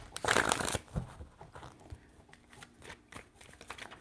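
Tarot cards are shuffled by hand in a quiet room: a brisk riffle of papery flutter at the start, then softer scattered card taps and slides.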